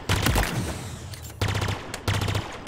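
Sci-fi pulse carbine in Halo Infinite fires three short rapid bursts of energy shots, loud and close, with brief gaps between each burst and no talk.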